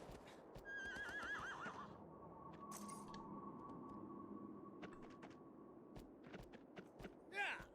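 Horse in the game Shadow of the Colossus whinnying in a wavering call, followed by a steady, soft clip-clop of hooves and a few sharper clatters, with another short neigh at the end.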